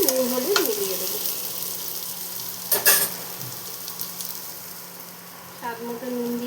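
Onions sizzle in a pan with salt and turmeric, a constant close crackle with a few louder bursts as they are stirred; no speech.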